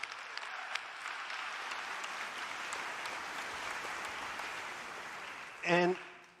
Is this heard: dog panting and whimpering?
no